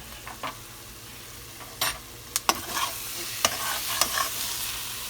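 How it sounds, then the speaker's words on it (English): Chicken liver curry with fresh onion and pepper simmering in a pan, a low steady sizzle broken by several sharp scrapes and clinks of a spoon stirring against the pan, with no talking. "we're going to let it cook down for another 5 minutes with the fresh onion and pepper we just threw in there"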